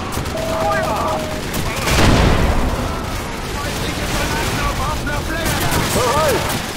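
A burst of gunfire and explosive booms in Call of Duty 4: Modern Warfare rings out over continuous battle noise, with a loud blast near the middle and scattered shots after.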